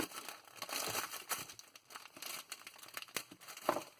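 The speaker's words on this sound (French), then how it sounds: "alors nous allons la déballer." Plastic packaging crinkles and tears as a wooden decorative letter is unwrapped. Close, irregular rustling bursts come with a few sharp crackles.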